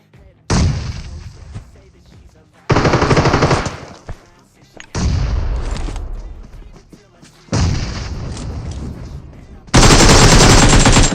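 Groza assault rifle fire in PUBG Mobile, five loud bursts of automatic gunfire separated by short gaps, each sustained for about two seconds and close up.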